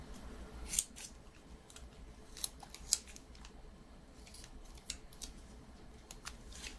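Scissors snip through wrapping paper in a few sharp, crisp cuts spaced apart, close and fairly quiet against a soft, hushed background with no talking.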